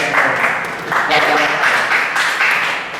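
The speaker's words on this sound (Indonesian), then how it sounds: "Tepuk tangan buat kita semua." A seminar audience claps together for a few seconds, a moderately loud burst of applause that swells and dips, with some voices mixed in.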